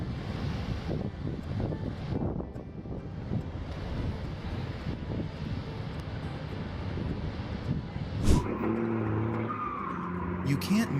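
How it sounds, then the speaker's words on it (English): Two tractors with engines of up to 280 horsepower roar and spin their wheels across the ground in a tug-of-war contest, heard outdoors amid gusty wind noise with a sharp burst near the end. "With powerful engines boasting up to 280 horsepower, both tractors roar and slide their wheels across the ground"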